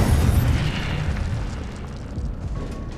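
Incendio fire spell going off in Hogwarts Legacy, a loud booming burst that rolls away into a fading rumble, heard alone without talk.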